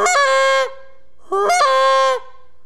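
Two honks from a goose call flute, each rising from a low note to a high one and dropping back low. The calls are loud, close and clean, separated by a short pause, with no talking.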